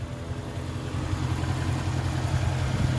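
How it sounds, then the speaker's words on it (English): A 2008 Jaguar XK 4.2 V8 automatic idles steadily at a low, smooth rumble, close by and even throughout with no revving. "Very nice sounding engine, very smooth."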